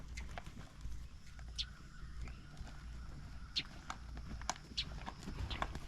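A horse canters under a rider at a ranch during training for rearing and flipping over; muffled hoofbeats sound faint and distant, irregularly spaced over a steady background hiss, with a few scattered bird chirps.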